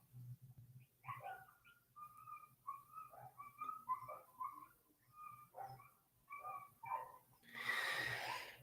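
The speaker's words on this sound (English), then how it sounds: "There's dogs barking outside." Dogs outside give a string of soft whimpering, whistle-like yelps in uneven bursts that come faint and distant, followed by a short rush of broadband noise at the end.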